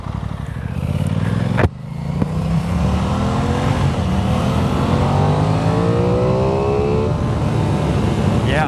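Aprilia Tuono 660 motorcycle engine revving up close on a test ride, rising and falling through several loud climbs, with a sharp mechanical click early on and rising pitch sweeps throughout.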